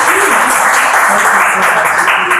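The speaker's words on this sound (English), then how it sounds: "Another round of applause to Kaya" Audience applause at a live poetry evening, a dense, steady wash of many hands clapping at full volume throughout, with a voice or two faintly mixed in.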